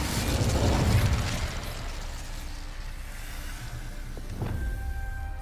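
Incendio fire spell cast in Hogwarts Legacy, a loud whooshing burst of flame that swells at the start and trails into a rumbling roar, with a later pop and brief ringing tones near the end.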